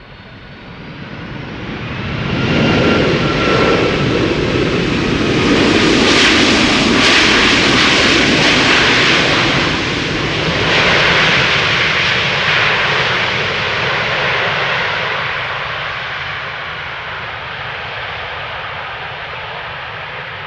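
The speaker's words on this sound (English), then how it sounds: "757, Icelandair Flight 500, returning from Reykjavik." An Icelandair Boeing 757 jet, Flight 500 returning from Reykjavik, roars at Schiphol Airport: a loud, broad engine rush swells in after a couple of seconds, holds strong through the middle and slowly fades as the aircraft passes.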